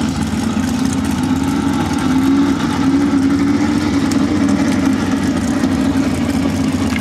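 A car engine runs steadily and loudly close by as the drive begins, holding a constant low hum with no clear revving and no voices over it.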